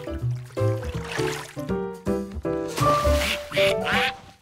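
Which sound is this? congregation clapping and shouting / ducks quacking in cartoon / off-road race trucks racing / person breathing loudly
ducks quacking in cartoon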